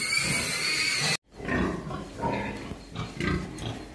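Sows in a farm pen grunt and squeal in several rough bursts after a brief cut, close and fairly loud, with no talk over them.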